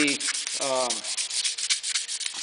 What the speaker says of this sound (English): I continue to sand in the same direction without cross sanding